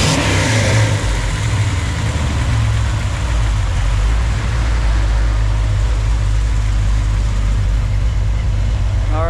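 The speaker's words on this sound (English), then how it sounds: "I'll give her a little rev here so you can hear it" A Ford D150 pickup truck engine drones loud and close with a deep, steady rumble, holding a constant rev throughout.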